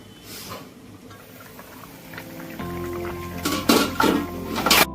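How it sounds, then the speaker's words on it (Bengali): A lid lifted off a pot of simmering fish curry: quiet bubbling at first, then several bright metallic clinks and clatters of lid and pot near the end, close and fairly loud. "ঢাকা খুলছি।"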